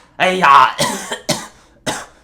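A person coughs several times in quick, harsh bursts, close up, with short pauses between them.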